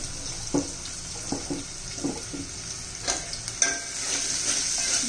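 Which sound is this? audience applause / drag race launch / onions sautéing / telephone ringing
onions sautéing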